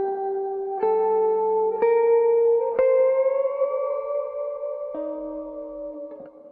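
A synthesized musical tone is run through reverb coloured with saturation and distortion, producing sustained echoing notes that step in pitch every second or two and trail off with a lingering wash.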